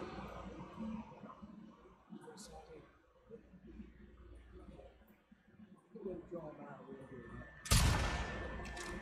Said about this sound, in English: We're shooting infected.